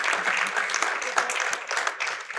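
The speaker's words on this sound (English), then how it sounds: "Let's clap for Jesus Christ." A church congregation claps together in sustained, dense applause, with voices faintly mixed in underneath.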